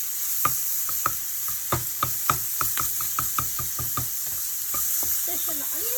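Fish and onions frying and being stirred in a pan, with a steady sizzle under a run of clear, rhythmic scraping and tapping strokes from stirring, heard close and with no talk.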